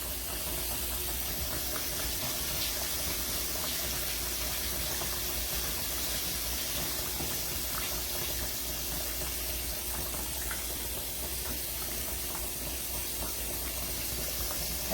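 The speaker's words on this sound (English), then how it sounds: "Let me wash my hands." Running tap water pours steadily over hands being washed in a home kitchen during cooking, a continuous hiss-like spray lasting throughout at close range with no talk.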